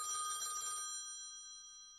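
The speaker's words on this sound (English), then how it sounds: "when the office phone rang" An office telephone bell rings once with a bright metallic trill, then the tone decays and hangs in the quiet room for over a second.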